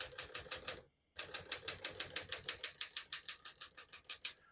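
A 1957 Smith-Corona Silent-Super portable typewriter types in a rapid, steady run of sharp key strikes up close, with one brief pause early on before the even clatter resumes.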